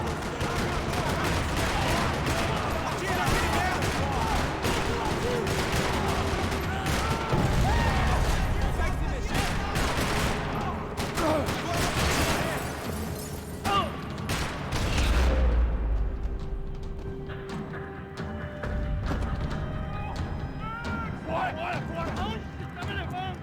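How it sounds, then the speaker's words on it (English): Rattling bursts of gunfire echo through a parking lot in the video game Max Payne 3, rapid overlapping shots and heavy thumps over a dense, loud backdrop that drops away briefly near the end before resuming. "Another parking lot rattling with gunfire."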